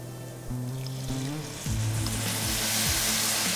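Chicken broth poured onto toasted risotto rice in a hot pan, bursting into a loud sizzle that builds and spreads, with a low bubbling hum and a couple of bursts of pouring, close and alone.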